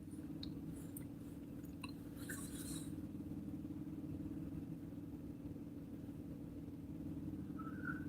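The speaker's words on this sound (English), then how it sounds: "Hopefully the motor noise from the truck's not too bad" A truck motor idling while parked on a windy, rainy fishing outing: a low, continuous rumbling hum, steady and unchanging, with faint scattered ticks and taps on top and no talk.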